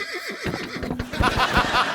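A horse neighs on a TV comedy show: a wavering whinny with rising and falling notes, fairly close and loud over some background noise.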